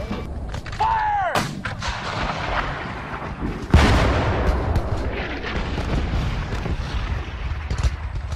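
Civil War artillery cannons fire in a battle scene: a loud heavy boom near the start, then another powerful blast midway, with rumbling reverberation and scattered gunfire filling the gaps.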